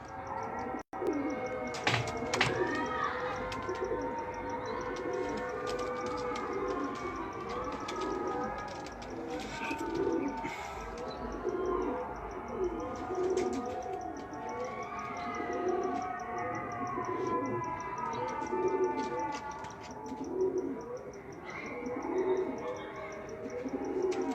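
Pigeons coo in repeated rhythmic phrases close by, a male and female among them, while a voice talks intermittently over the birds and a sharp click sounds near the start.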